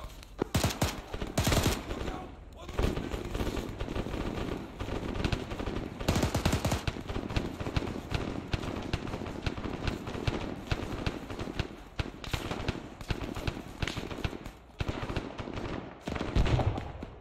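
Gunfire in the video game Arma 3 during a drug cartel operation, dense bursts of automatic fire with sharp single shots, loud and close, continuing in rapid volleys throughout.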